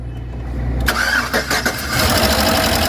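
A 2009 Chevrolet Tahoe 5.3L V8 under repair cranks and fires up, then settles into a rough, loud idle with a faint ticking from the valvetrain, close by with no speech.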